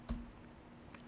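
A single key press on a computer keyboard, most likely the Enter key, gives a sharp close click near the start, with a couple of faint clicks near the end and quiet room noise between.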